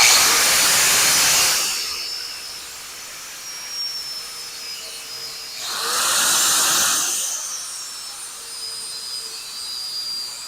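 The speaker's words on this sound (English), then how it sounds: "First thing is to grind the ends dead even. Just do that with the angle grinder." An angle grinder grinds the ends of brass vise jaw pads dead even in two loud bursts of harsh, hissing abrasion, each a second or so long, with quieter pauses and a faint high whine between them.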